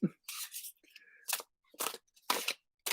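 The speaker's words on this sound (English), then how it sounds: "So here we go. We're shuffling up." A deck of cards being shuffled by hand, giving several bursts of crisp riffling and snapping at irregular intervals, with brief quiet gaps between them and no talking.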